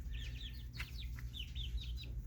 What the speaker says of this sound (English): that's what the Blue Star chicks look like